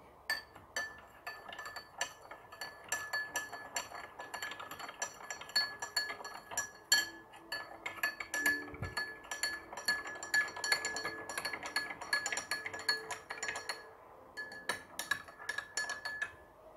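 A spoon stirs salt water in a glass, clinking rapidly and continuously against the sides in a light, uneven rhythm.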